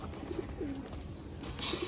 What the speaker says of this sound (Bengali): এগুলো কিন্তু মাত্র 1 দশকের কবুতর, ভাইয়ের হোম ব্রিড কবুতর